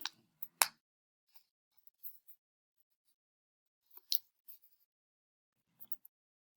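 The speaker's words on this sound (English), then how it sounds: "And then we're going to fold each half in half." Paper is folded in half and then in half again, heard as sparse, sharp creases and soft taps separated by quiet gaps.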